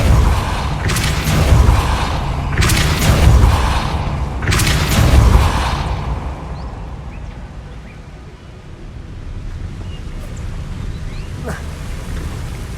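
Three heavy magical blasts boom in quick succession from the Depulso spell in the Hogwarts Legacy game, each a loud burst that fades, followed by quieter ambient rumble.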